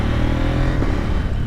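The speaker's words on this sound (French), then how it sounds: "rien qu'avec ce bruit, vous comprenez qu'on reste sur du bon gros bicylindre KTM ultra satisfaisant" A 2024 KTM 990 Duke twin-cylinder motorcycle runs up close with a loud, continuous, throbbing engine note.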